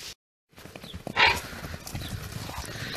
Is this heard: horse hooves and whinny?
yes